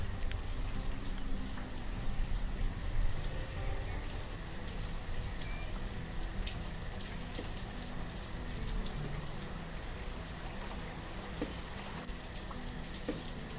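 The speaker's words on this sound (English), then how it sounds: "Kind of a rainy, drizzly, gloomy, early spring day." Steady drizzly rain patters continuously on surfaces in the Banished city-building game, an even, soft wash of droplets on a gloomy early spring day, with no voices.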